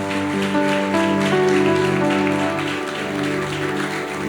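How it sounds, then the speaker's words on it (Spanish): Church congregation applauding during a Spanish-language sermon, sustained clapping under a droning musical background that runs throughout. "denle un aplauso al Señor"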